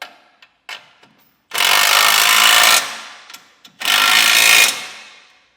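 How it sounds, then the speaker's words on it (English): A socket tool snugs down nuts on a Curt custom base plate kit fitted to a 2023 Jeep Gladiator, using 19mm and 14mm sockets: two sustained loud mechanical whirring bursts, with a few small clicks and taps before and between them. "take a 19mm socket, snug the two larger nuts down, and a 14mm socket to snug down the smaller ones"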